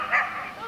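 A dog gives a single short, yelping bark close by, with friends and puppies around.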